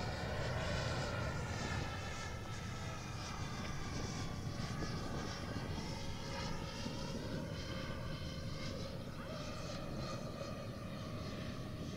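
An RC model B-58 Hustler jet flies in for landing, its turbine hum a steady, fairly faint drone with gently shifting pitch, heard at a distance with no voices.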